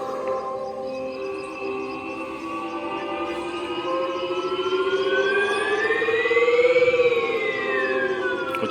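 Ola S1 Pro 2023 electric scooter's synthetic Eclipse speed sound mode: a steady, siren-like electronic tone that rises in pitch and loudness toward the middle and then falls back, heard alone.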